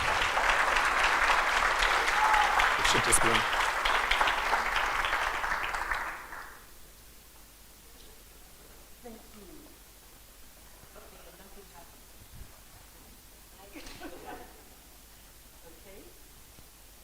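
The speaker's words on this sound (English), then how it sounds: "Round of applause." Applause from the audience at a philanthropy forum panel, a steady wash of clapping for about six seconds that then stops abruptly, followed by quiet room tone and brief, soft talk.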